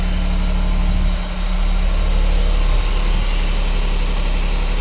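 A Honda Beat sits idling close by, with a steady low engine hum and a faint mechanical buzz holding even throughout, one slight dip in level early on, and no voices.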